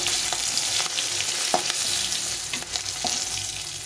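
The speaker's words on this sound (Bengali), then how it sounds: "সুন্দর করে ভেজে নিচ্ছি একটু ভালো করে লাল লাল করে ভেজে নিলে ভালো লাগে তো মুড়োটাকে আমি ভেজে নিচ্ছি" A fish head fries in hot oil with a steady, dense sizzle, broken by a few sharp scraping stirs of a spatula.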